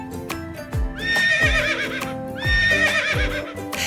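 A horse whinnies twice in loud, wavering neighs, with hoof clip-clops and a soft rhythmic backing underneath.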